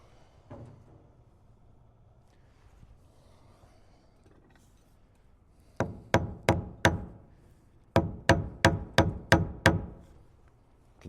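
A nail gun fires in two quick bursts of sharp, evenly spaced shots, five then eight, while fastening soffit and fascia trim, after a quiet stretch of faint handling noise.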